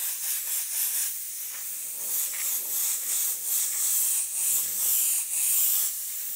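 Airbrush blowing air in short pulses, a close, bright hiss that swells and eases in an uneven rhythm as the stream is worked back and forth over a paint mask, with no voices.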